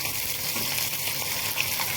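Finely chopped onions frying in oil for paneer do pyaza, giving a steady, close hiss of sizzling that holds evenly throughout without pause or speech.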